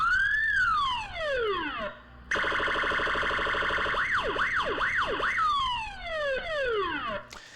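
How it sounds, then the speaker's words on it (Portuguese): A siren sound effect cycles through styles: rising and falling wails, a steady high tone, a quick warbling yelp, then wails again, loud and close with no talk over it. "Então vamos tocar a sirene"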